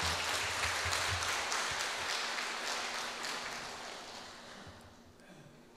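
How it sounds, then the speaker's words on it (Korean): A church congregation applauds in a large auditorium after a worship song, a dense round of clapping that starts full and slowly fades over several seconds. "박수 한번 보내주세요."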